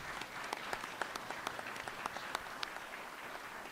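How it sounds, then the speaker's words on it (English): Scattered applause from an audience at a school board meeting, honoring the election candidates; a steady patter of claps with sharper individual hand claps standing out, moderately faint and heard alone. "Let's give all these candidates a round of applause."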